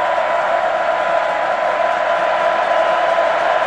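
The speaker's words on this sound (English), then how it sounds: "The crowd will either get louder or Nate Hybl will quiet them right here." A large college football stadium crowd roars steadily on third down, a dense wall of cheering and shouting that holds at a constant loud level throughout.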